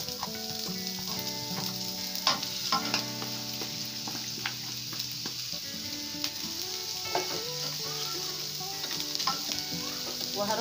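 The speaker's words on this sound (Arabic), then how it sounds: "ولما تسيح هنزل عليها بالبصل" Onions sizzle in melted fat in a pan, a steady close frying hiss broken by frequent clicks and scrapes of a utensil stirring them, with no talking.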